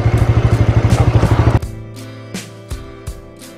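A motorcycle idles nearby with a rapid, loud chugging engine beat that cuts off abruptly as it is switched off, followed by a few clunks and thuds while it is parked.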